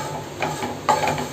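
Brinjal fry is stirred and sautéed in a pan, with a soft continuous sizzle broken by a couple of scraping spatula strokes, close up and with no talking.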